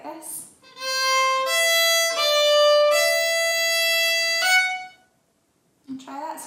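A fiddle plays a Manx tune, Myr Shenn Ayr, as a lesson demonstration: a clear, close bowed phrase of sustained notes stepping through a few pitches for about four seconds, ending in a pause before a brief trailing sound.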